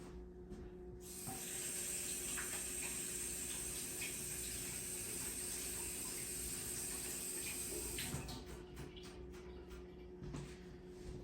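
Steady hiss of tap water running into a sink while hands are wetted for handling sourdough focaccia dough, continuous and fairly close for about eight seconds before tapering off.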